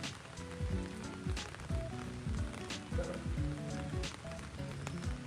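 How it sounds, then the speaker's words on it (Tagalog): Late-afternoon rain falls steadily in a Philippine neighborhood, a continuous hiss of drops on surfaces mixed with scattered street noises nearby. "So, naulan ngayon dito."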